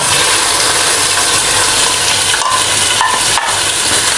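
Meat fries with onion in a pan, producing a loud, dense, continuous sizzle close to the pan with a few brief dips.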